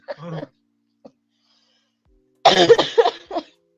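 A few rough coughs, one short burst, a tiny one, then a longer harsh fit, separated by silence.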